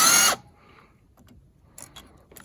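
Power drill fitted with a Torx T25 bit backing out a carburetor bolt, one short loud whir that cuts off, followed by quiet faint clicks and handling noises.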